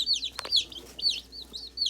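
Young chicks peep in a series of high, bright calls, several birds chirping close by in short overlapping bursts with a brief louder flutter in between.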